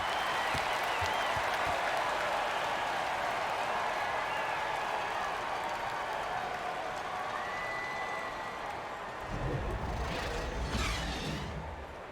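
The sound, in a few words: crowd applauding in video game NBA 2K17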